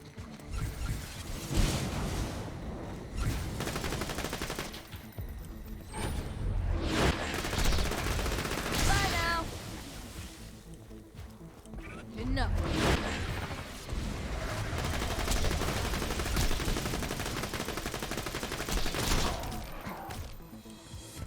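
Vladof Infinity pistol firing in Borderlands, a dense, sustained stream of rapid shots in long bursts separated by brief pauses, loud and close, with crashes and booms from the combat mixed in.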